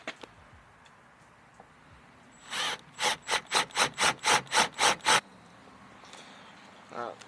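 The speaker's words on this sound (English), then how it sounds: "we're going to go ahead and take our 3/8 bit, and we're going to go ahead and drill these two out as well" A 3/8 bit drilling out hood latch holes on a JK Wrangler, about ten short grinding bursts in quick rhythmic succession, close and fairly loud, with a few faint clicks before and after.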